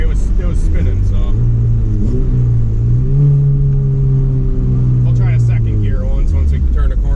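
A Honda Civic race car accelerating on a track, its engine climbing in pitch through the gears with a loud, continuous roar and brief dips between shifts, heard from close by.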